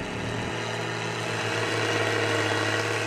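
A JF forage harvester works grass, its engine roaring steadily and loudly throughout with a constant, heavy mechanical drone.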